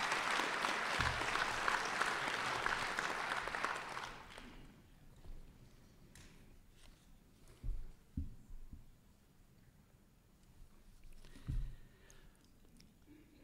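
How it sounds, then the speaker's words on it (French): Audience applause at an annual francophone gathering hosted by the Ottawa mayor, a dense burst of clapping that stops after about four seconds, followed by quiet room noise with a few soft thumps. "Je pense qu'il faut s'applaudir parce qu'on se reconnaît encore."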